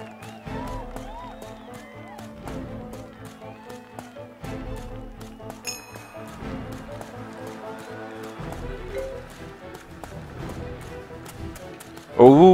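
Horse hooves trot in the video game Champion Dreams in a steady, even clip-clop rhythm at moderate volume, heard beneath dramatic music, with a brief louder burst at the very end.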